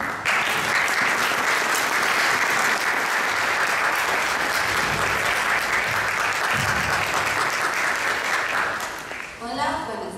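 A full audience claps steadily and loudly for about ten seconds at a master class during an arts congress, a thick continuous wash of hands that tapers off at the very end.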